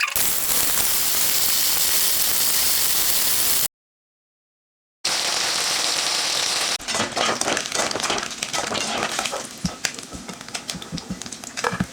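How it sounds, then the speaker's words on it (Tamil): Marinated anchovies (nethili) dropped into hot oil and frying, a loud dense crackling sizzle that briefly cuts out, then resumes with sharper popping and spattering bursts. "இப்போ பொரிச்சிக்கலாம் இதை இப்போ எண்ணெய் ஊற்றி எண்ணெய் காஞ்சிருச்சு"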